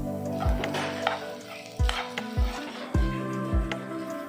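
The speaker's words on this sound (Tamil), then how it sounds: "குக்ட் ரைஸ் சேர்த்துட்டு தேவையான அளவு உப்பு சேர்த்து நல்லா கலந்து விட்டுக்கோங்க" Cooked rice with salt is stirred in a pan for jeera rice, with repeated scraping knocks of a spoon against the metal about every half second to second over a faint sizzle.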